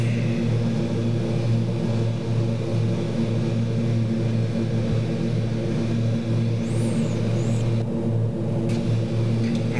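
Turboprop engines of a Beechcraft Super King Air B200 in a Flight1 flight simulator give a steady, loud, tonal drone that holds evenly throughout, with a faint high whine appearing near the end and no talking.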